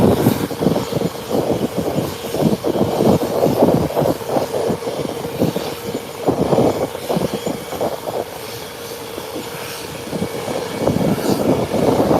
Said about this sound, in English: That giant of an aircraft coming in this evening.